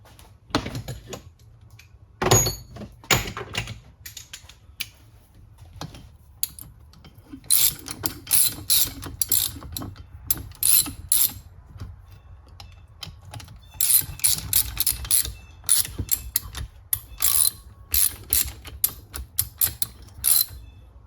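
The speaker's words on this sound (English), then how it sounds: "Ratchet's junk, but it works." A worn ratchet wrench snugs bolts on the rear differential of a 2002 Polaris Ranger 500, bursts of rapid clicking pawl ratchets in uneven runs separated by pauses, close and crisp with no talking.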